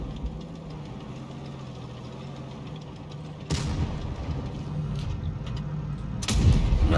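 A tank cannon shot in World of Tanks Blitz: a sudden loud blast over a low, rumbling engine drone, followed a few seconds later by another heavy impact.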